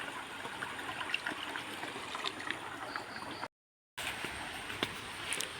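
Steady rushing and trickling of used clothes-washing water flowing away down a drain, continuous and fairly close, with a brief dropout partway through.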